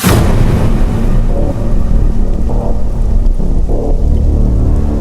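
Heavy rain pours steadily at night with a deep rumble of thunder underneath, loud and continuous throughout with no one speaking.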